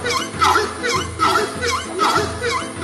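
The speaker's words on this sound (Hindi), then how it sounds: "नंबर 1, हॉर्नेड स्क्रैमर।" Horned screamer calls loudly in a repeated series of harsh, braying honks, about five rhythmic bursts in under three seconds, close and alone with no talk.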